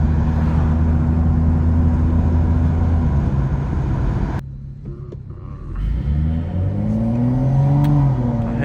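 A Stage 2 BMW 435i engine roars loudly close by, then drops off abruptly into a short lull with crackling exhaust pops before revving back up into a rising whine.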